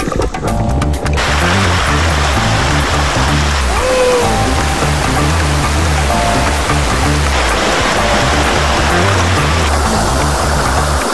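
Rushing river stream, a fast mountain flow among rocks, loud continuous roar of water close by, steady throughout with a few brief tonal blips over it.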